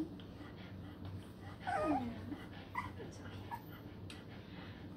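A one-month-old puppy whimpers and yips in short, soft bursts close by, heard against a quiet room background.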